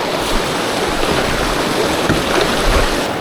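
Rushing water on the Devils River, a clear desert river, surging around a kayak after a twisting rapid: a loud, steady, broadband roar and splash that holds continuously close to the microphone, with no voices.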